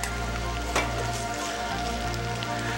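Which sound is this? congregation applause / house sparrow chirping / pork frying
pork frying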